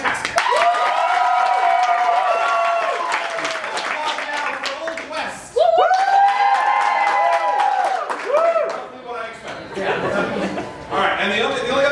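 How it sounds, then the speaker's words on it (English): An audience at a live radio-play comedy show claps and cheers in a couple of swelling bursts, with chuckles and a voice speaking over the noise. "Applaud now for Tales of the Fantastic."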